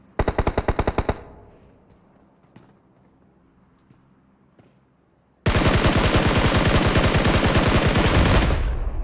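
Gunfire in a competitive team shooter scrim: a short automatic burst, a quiet gap with faint scattered shots, then a long, loud sustained stream of rapid fire that cuts off abruptly.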